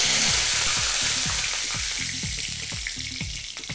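Cumin seeds and curry leaves fry in hot oil, a loud, dense crackling sizzle with rapid popping bursts that slowly eases, heard close with no voices.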